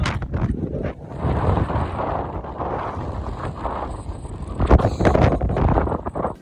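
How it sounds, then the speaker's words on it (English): Strong, cold wind in Iceland buffets the microphone in loud, gusting roars that rise and fall throughout, with no other clear sounds. "It was very cold, cloudy, and windy"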